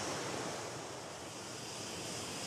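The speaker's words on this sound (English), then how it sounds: "wow, babe, look at the sea." Sea waves wash continuously against a shore on a road trip between Nigeria and Europe, a steady broadband roar with no break, mixed with some wind and no talking.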